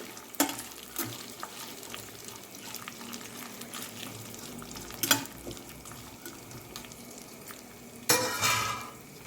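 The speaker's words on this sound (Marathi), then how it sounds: "अर्धी वाटी गाजरचे तुकडे आणि अर्धी वाटी वाटाणे यांना पण फ्राय करून घेऊ आपण व्यवस्थित" Half a bowl each of carrot pieces and peas fry quietly in a pan for vegetable pulao, giving a faint, steady sizzle with occasional spoon clinks and a louder scraping stir near the end.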